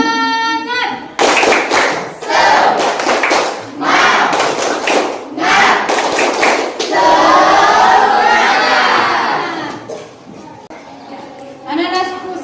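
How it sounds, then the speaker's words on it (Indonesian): A class of schoolchildren performs a rhythmic spirit clap chant, loud bursts of group clapping alternating with shouted chanting voices in a steady pattern, with a sustained crowd shout in the middle and a clap at the end. "ayo tepuk semangat"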